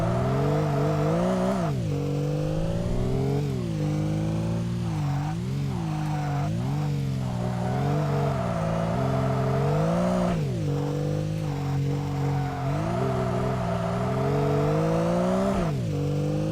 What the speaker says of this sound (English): the naturally aspirated engine that this has sounds really, really good.